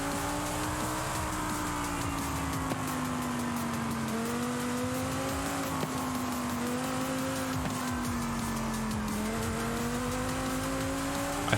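A car engine revs under throttle in Forza Horizon, a steady rising and falling drone held for over ten seconds, loud and close, with small pitch dips like gear shifts and no talk over it.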